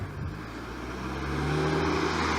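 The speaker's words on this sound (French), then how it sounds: "Petite voiture, désolé pour le bruit." A small car passes nearby, its engine hum swelling gradually and steadily through the clip with no talk over it.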